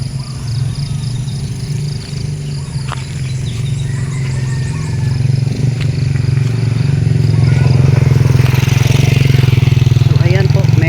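A motorcycle passes by near a residential compound, its engine building from a low rumble to a louder close pass toward the end, with faint background voices and possible rain.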